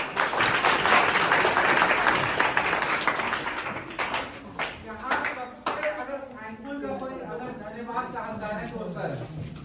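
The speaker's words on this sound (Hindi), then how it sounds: "चलिए ताली बजाते।" An audience at a foundation's event in an upper middle school in Chainpur claps loudly and densely for about five seconds. The applause then fades, and someone speaks into the room while a few claps linger.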